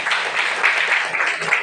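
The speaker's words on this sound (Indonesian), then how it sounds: "tepuk tangan." Students applaud in a classroom after a group presentation, giving a brief, steady, dense patter of clapping at moderate loudness without talk.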